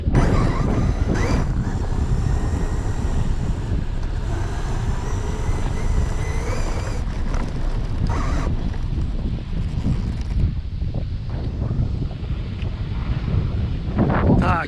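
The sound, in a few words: strong wind whipping across the microphone outdoors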